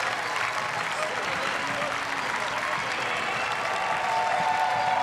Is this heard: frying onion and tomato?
no